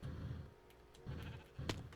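Sheep bleating in modded Minecraft, three short nasal bleats spaced about half a second apart, fairly faint against a quiet game background.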